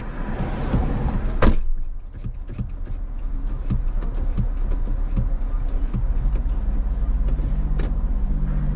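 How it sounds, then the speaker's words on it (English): A car drives along with a steady low road and engine rumble, a solid thump near the start and faint clicks scattered through, with no talking. "Get in the driver's seat. Keep driving."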